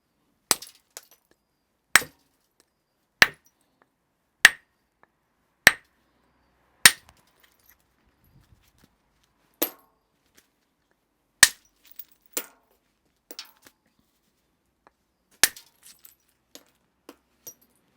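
A flint handaxe being knapped, with its edge struck and ground back to a thicker area. About a dozen sharp, isolated clicks and cracks arrive at irregular intervals, close and fairly loud, with quieter scraping taps between them and no talking.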